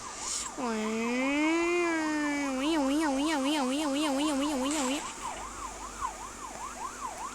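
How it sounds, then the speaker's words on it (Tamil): Loud warbling electronic siren of a video game vehicle wailing up and down, then fast yelping, shifting to a thinner repeated wail, with faint background noise. "போகிறோம், சைரன் வச்சுக்கிட்டு போகிறோம் பாருங்க"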